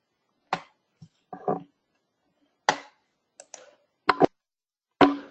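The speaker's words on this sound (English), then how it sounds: "I'm sorry, I was typing." A computer keyboard gives a handful of sharp, isolated keystroke clicks, some single and some in quick pairs, spaced irregularly across near silence and heard close up.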